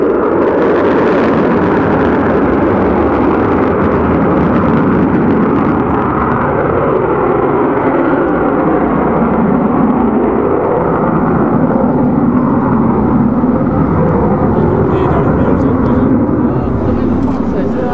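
An Avro Vulcan bomber sweeps through a steep wingover at an airshow, its loud, continuous jet roar sustained throughout, with an announcer talking over it.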